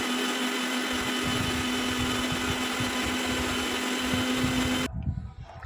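A loud mixer grinder whirs steadily for about five seconds grinding coconut paste with water, chili and turmeric powder, with a constant motor hum, then cuts off abruptly, leaving faint rattling.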